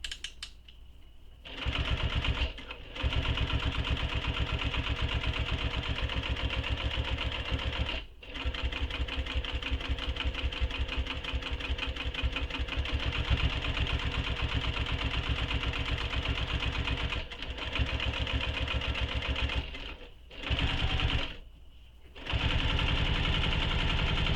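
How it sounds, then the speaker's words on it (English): Sewing machine top stitching the flap of a crossbody bag, a fast even mechanical whir that runs in long stretches with short pauses between them, close and steady. "So now I'm going to top stitch the flap."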